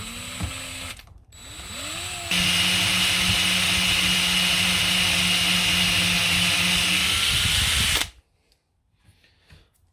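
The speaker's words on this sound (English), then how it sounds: "I'm going to see if I can drill into that." A power drill whirs briefly, stops, then runs steadily and loudly for several seconds as it bores into material before cutting off to near silence.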